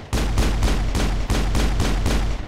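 Rapid gunfire from a shooter video game, a sustained burst of heavy repeated shots with a steady rhythm and loud low-end punch, close and with no voices.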